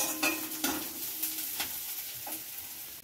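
Chopped garlic, green chili and ginger frying in a pan, a soft continuous sizzle broken by repeated scraping stirs at irregular intervals, fairly quiet and with no voices.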